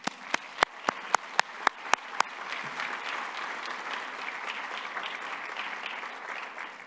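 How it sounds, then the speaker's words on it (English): An audience at a conference opening in Belgrade claps, starting with a few loud, evenly spaced single claps before breaking into sustained, moderately distant applause from the crowd. "I would like to just have one big round of applause."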